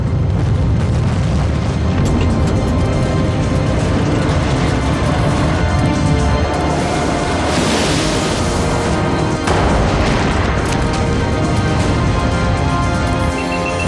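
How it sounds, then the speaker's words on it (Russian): A second blast wave rolling through the bow section of the nuclear submarine Kursk: a loud, sustained low rumble with dense crackling and roaring debris noise that swells around the middle, with no talk. "еще одна взрывная волна прокатилась в носовой части «Курска»"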